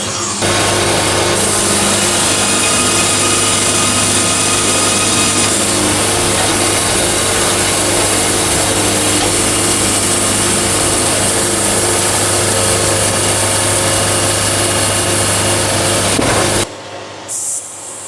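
A band sawmill cuts steadily through a log with a loud, continuous rasping roar over a low motor hum, running unbroken until it abruptly stops near the end.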